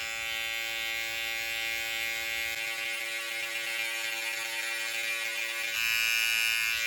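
Electric hair clippers buzz steadily and close during a high taper self-cut, a constant droning hum that shifts slightly in pitch as the blade moves through hair.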